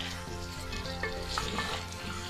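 Chicken browning over a full flame with garlic, ginger and onion, a loud continuous sizzle and crackle with stirring scrapes, heard close up and without speech.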